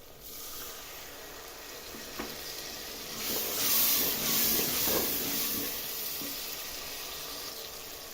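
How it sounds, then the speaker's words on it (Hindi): Water pours steadily into a hot pot of potato and beef curry with a sizzling hiss that swells louder midway, then settles into a softer bubbling sizzle. "अब हम इसमें डालेंगे थोड़ा सा पानी"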